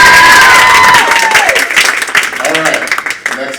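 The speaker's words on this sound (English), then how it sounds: "Clap it up for me then, come on" Applause from an audience at a high school poetry slam: dense, steady clapping that fills the whole stretch, with a brief whistle-like tone near the start and voices mixed in.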